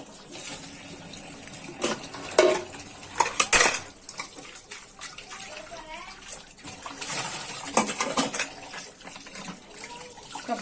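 Dishes washed by hand at a sink, with water running from the tap and pots, pans and cutlery clinking and knocking in irregular bursts, close by.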